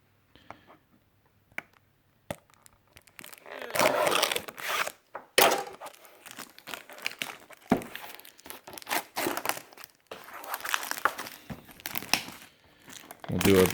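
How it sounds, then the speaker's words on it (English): Plastic wrap is peeled and crinkled off an EVGA GTX 1080 Founder's Edition graphics card box, loud close-up crackling and tearing in irregular bursts, with a few quiet gaps. "let's get this plastic off"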